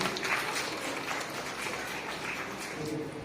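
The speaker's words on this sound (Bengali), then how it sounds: "একটু জোরে হাততালি সবাই মিলে।" Audience applause at a ceremony honoring a Nazrul portrait with floral wreaths, a steady, moderately loud wash of clapping from a crowd throughout.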